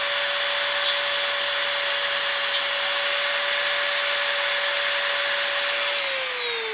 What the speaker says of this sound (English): Let's turn my Dremel on here.